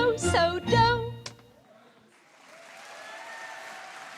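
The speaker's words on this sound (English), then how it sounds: "A big round of applause for our stars." At a musical ice show, a brief sung or spoken phrase gives way to soft applause from the audience for the skaters, the clapping swelling gently and holding at a moderate, somewhat distant level.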